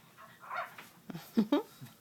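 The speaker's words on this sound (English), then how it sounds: "Jingle loved to bark hello." Jingle the dog barks hello on Christmas morning, giving two short, sharp barks close by near the end after a softer whine-like sound, fairly quiet overall.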